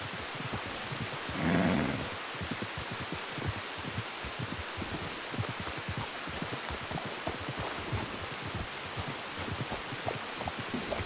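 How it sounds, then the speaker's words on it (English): Steady rain in Red Dead Redemption 2 patters and hisses evenly throughout, a dense continuous wash of drops with a brief louder rustle near the start. "Oh, now the rain is here."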